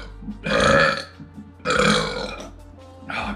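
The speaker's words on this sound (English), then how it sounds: "Time for some burps." Two long, loud burps come one after another in a burping contest, and a third starts at the end. Each one is deep and rasping, with no talk over them.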